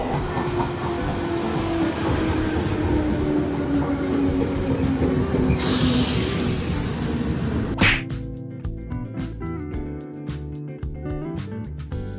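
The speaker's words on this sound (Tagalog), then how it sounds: "Ay, kakaalis lang ng tren, sayang." A train departs from a station in Japan, rumbling and rolling away with squealing wheels and a rising whine, then a loud clunk gives way to a quieter hiss and scattered rattles.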